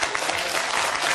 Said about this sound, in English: You don't have to applaud everything I say.